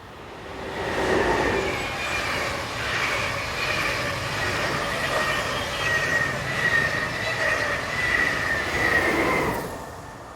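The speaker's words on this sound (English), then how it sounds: "The company uses hired-in Class 182 electrics, which are more common working container and intermodal services." Flixtrain passenger train hauled by Class 182 electric locomotives, rolling past with a sustained rumble, squealing wheels and faint clickety-clack, rising and fading over about ten seconds.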